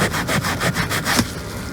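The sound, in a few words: scrubbing leather with rough side of sponge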